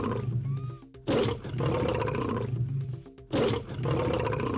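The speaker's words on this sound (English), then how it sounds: "That is a lion." A lion roars in a series of loud, rough bursts set in a jungle safari scene, with a brief pause midway before another powerful roar, and no talking.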